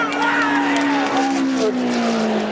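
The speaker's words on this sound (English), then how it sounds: "Down they come for the finish. Here comes Baker on the outside." Several NASCAR stock cars racing side by side to the finish line at the 1984 Busch Clash, a loud sustained engine roar with a falling pitch as they pass, under an excited commentator's voice.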